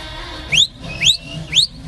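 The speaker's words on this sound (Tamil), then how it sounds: "இந்த விசில் தியேட்டர்ல நாம அடிச்சது தானே?" Three loud, sharp rising whistles like fans whistling in a theatre, evenly spaced about half a second apart, standing out over a low murmuring background.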